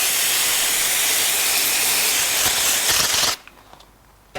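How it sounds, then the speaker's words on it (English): Aerosol brake cleaner sprayed onto oil spillage while restoring a Ford Escort RS Cosworth, a loud continuous hiss for over three seconds that stops abruptly, followed by quiet. "Then we'll clean off the spillage with a bit of brake cleaner."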